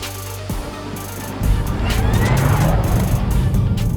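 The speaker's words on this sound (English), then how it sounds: "what Porsche has done to give this car a bit of sporty feel is give you an option of switching on what they call an electric sports sound" Porsche Taycan electric sports sound switched on, a robust synthetic whine rising after a brief quiet interior hum, then swelling loud and sustained with rising tonal sweeps.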